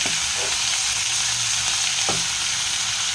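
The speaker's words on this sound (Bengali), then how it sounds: "দিয়ে হালকা ভাজা ভাজা করে নিই।" Chicken fries lightly in hot oil for chicken kosha, a steady close sizzle with a couple of brief stirring scrapes, and no voices.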